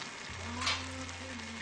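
Seeds and almond meal fry in a pan over a lowered flame, giving a steady close sizzle with a brief louder crackle near the middle and a low hum underneath.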